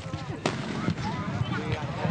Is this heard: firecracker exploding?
yes